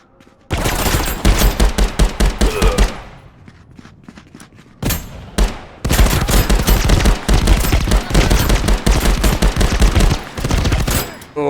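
Rapid automatic gunfire from a VR shooting game, loud close bursts of dense repeated shots that pause briefly around the reload before resuming in long sustained volleys.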